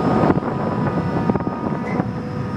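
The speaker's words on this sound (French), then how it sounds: "Voilà, les moteurs frigorifiques." Refrigeration motors at a fishing harbour on Réunion Island give a loud, steady mechanical hum and rumble, mixed with wind buffeting the microphone and no talk.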